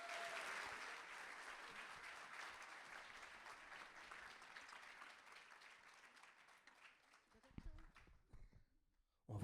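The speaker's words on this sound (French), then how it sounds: "Est-ce qu'on peut l'applaudir pour l'encourager parce qu'elle passe devant tout le monde?" A church congregation applauds someone about to be baptised, broad clapping that starts full and gradually thins out and fades, with a few scattered claps and knocks at the end.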